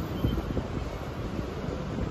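Steady low rumbling wind buffeting the microphone in Thailand, continuous and fairly loud throughout, with no voices.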